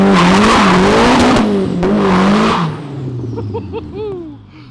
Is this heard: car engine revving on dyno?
yes